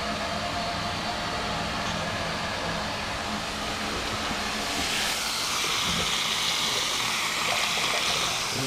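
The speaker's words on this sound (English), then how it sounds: "And it's running hot water." Hot water runs steadily from a guest bathroom vanity sink tap in a house, a continuous broadband splashing hiss that carries on throughout and grows slightly stronger partway through, with no talking.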